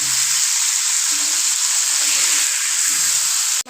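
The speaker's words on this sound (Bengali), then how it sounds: "মাছগুলোর এক পাশ ভাজা হয়ে গেছে, এখন উল্টিয়ে অন্য পাশ ভেজে নেব।" Hilsa fish pieces rubbed with salt and turmeric fry in hot oil, producing a loud, continuous close-up sizzle that cuts off abruptly at the end.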